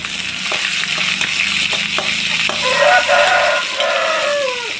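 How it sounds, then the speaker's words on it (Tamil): Onions sauté in a pan for a snake gourd gravy, sizzling loudly and close with a steady frying hiss, broken by the scrape and knock of a spatula stirring. "வெங்காயம் நல்லா வதங்கட்டும்"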